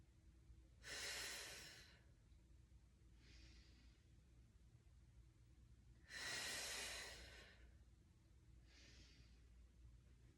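Deep breaths during a restorative mat exercise: two long, airy inhalations, each followed a couple of seconds later by a softer, shorter exhale, close and quiet with no talking.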